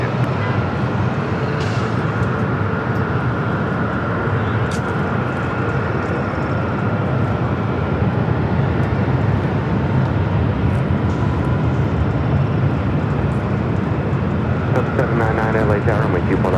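An airliner roars down LAX runway 24 left on its takeoff roll, a loud, steady broadband engine rumble that holds throughout, with faint voices under it.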